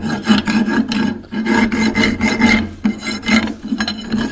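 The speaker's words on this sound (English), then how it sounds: "You need to get yourself a file, clean them out." A metal file rasps back and forth inside a cut link tube on a rock crawler, clearing burrs in close, loud, rhythmic strokes of roughly half a second each, with no voices.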